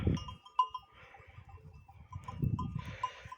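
Sheep bleating in short calls amid a busy outdoor mountain scene, with bells and shuffling noises, moderately distant.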